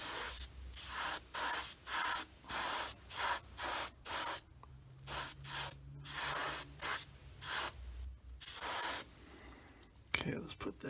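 Tamiya paint sprayed onto a 1/48 scale F4F model aircraft in short, repeated hissing bursts with brief gaps, building up light layers; close and moderately loud.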